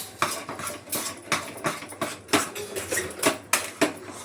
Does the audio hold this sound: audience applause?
no